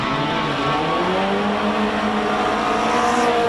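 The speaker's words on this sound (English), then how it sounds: "That's Francis Cousins in his Lotus 7 with a Toyota engine" A 1980 Lotus 7 1.6 race car with a Toyota engine runs at a hillclimb, its engine droning steadily and loudly for several seconds with rising harmonic tones as it accelerates, no voices heard.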